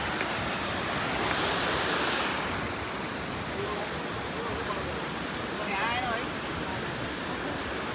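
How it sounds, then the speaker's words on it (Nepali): Water streaming down from higher ground at Nikko, Japan, makes a steady broadband rush, swelling louder during the first couple of seconds and then settling into a constant close wash. "त्यहाँ माथि पानी बग्दो रहेछ"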